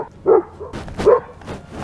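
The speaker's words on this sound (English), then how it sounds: "do your YouTube with the noisy neighbor dogs" Neighbourhood dogs barking nearby in a city yard, two or three sharp barks spaced about a second apart over low background noise.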